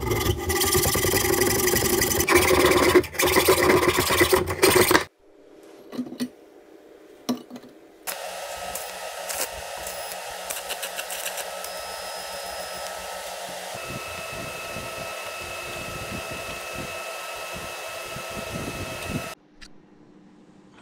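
A Samurai 40cc two-stroke engine fitted with a new cylinder and an exhaust pipe extended by 10 cm with a piece of old car exhaust, loud buzzing run, a brief sputtering pause, then a long steady drone before cutting off.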